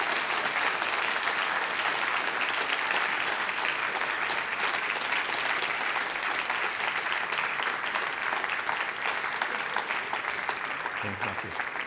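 The audience at the ISIT 2023 Shannon Lecture applauds Rüdiger Urbanke, a roomful of hands clapping in a thick, even wash that continues steadily for about twelve seconds.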